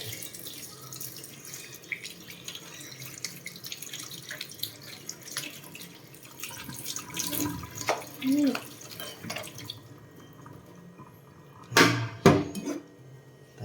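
Tap water runs steadily into a sink while vegetables are rinsed for Thai papaya salad, a continuous splashing wash with a few louder clatters near the end; faint talk is present.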